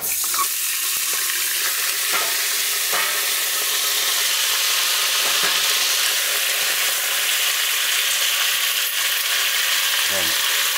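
Turkey neck sizzles in hot oil with garlic cloves in a pot, a steady close frying hiss with occasional stirring scrapes and clinks throughout.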